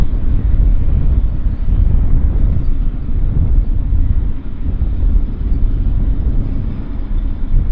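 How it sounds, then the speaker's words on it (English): An Air China airliner taxis at Vancouver Airport, a steady loud jet engine roar and rumble with wind buffeting, continuous and fairly near, with no talking. "so now Air China will taxi."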